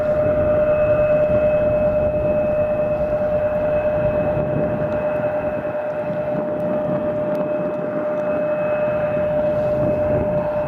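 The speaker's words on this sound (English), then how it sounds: "here comes the first A220. Touchdown." An Airbus A220 airliner lands at Riga airport in freezing, snowy weather, a loud steady engine roar with a sustained high whine over a broad rumble.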